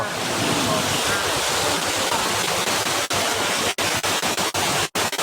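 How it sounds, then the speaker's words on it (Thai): An artificial rock waterfall in a city park pours continuously, a loud broad rushing roar that fills the scene and is broken by a few brief drops and gaps near the end. "น้ำตกแบบที่เป็นหินแบบเป็นธรรมชาติจริงๆเนี้ยต้องทำน้ำตกอย่างนี้ได้สวย"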